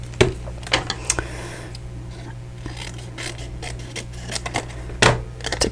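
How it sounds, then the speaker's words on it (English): Paper punch stamping three strawberry shapes from cardstock, sharp crunching clicks in a few separate bursts, close and alone. "I'm just going to punch out my 3 strawberries"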